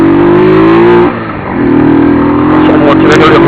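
A motorcycle with its air filter removed revs hard up close, a loud rising roar that dips briefly about a second in, then climbs again, with some talk mixed in.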